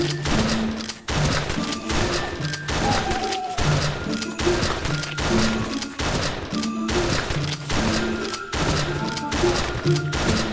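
Repeated shotgun blasts in a video game, fired through a fence at enemies, come as rhythmic heavy booms roughly every second over game music and are loud and close.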